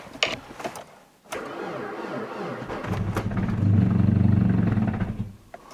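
A Mazda 626 1.8 cranks and fires in a cold start at -25°C with 15W40 oil, a few clicks and stutters giving way to a rough, loud idle that settles into a steady drone before fading.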